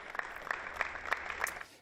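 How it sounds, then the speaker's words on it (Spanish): Applause closing a public ceremony on La Palma honoring essential workers, faint and distant, with a few distinct claps standing out over a soft crowd wash. "Con ese aplauso terminaba el acto."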